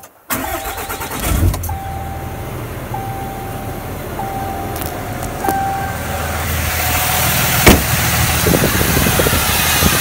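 A RAM 2500 Laramie diesel pickup with a deleted emissions system cranks, catches and settles into a steady, loud rumble, with a soft chime repeating every second or so in the background.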